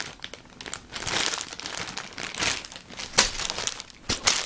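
Plastic bags of building-brick parts for a Doctor Who Cyberman set crinkle and rustle close up in irregular handling bursts, with a few sharp crackles standing out.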